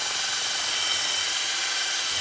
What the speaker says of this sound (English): now you can do this with a little wire brush. I have a drill and I have this little top on it